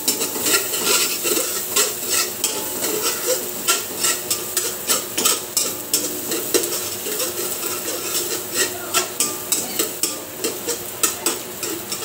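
Garlic and onion frying in a pan until golden brown, a loud close sizzle with repeated rhythmic scrapes and taps of a spatula against the pan throughout.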